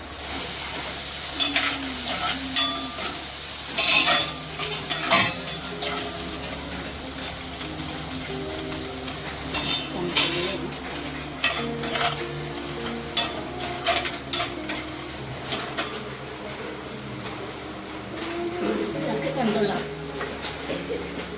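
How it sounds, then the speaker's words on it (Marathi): Onion frying in a pan for kantola (spiny gourd) vegetable, a steady sizzle with occasional stirring scrapes, under intermittent talk throughout. "कांदा मारून थोडा कांदा शिजवतो"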